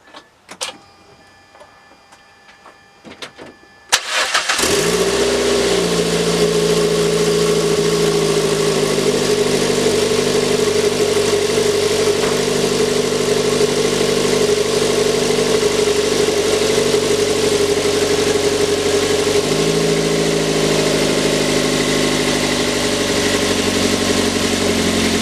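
Turbocharged Mazda 3 engine with the turbo-to-manifold gasket removed cranks and catches after a few seconds of quiet clicks, then settles into a loud, steady idle that runs on alone with a slight dip in pitch partway through.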